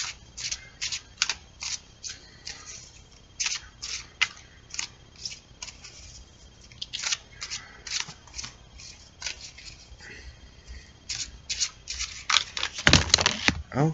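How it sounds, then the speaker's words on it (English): A tarot card deck being shuffled by hand, with rapid crisp riffling bursts and card snaps repeating in irregular runs, close and fairly loud, ending in a denser flurry, with no talking. "I guess we're done shuffling"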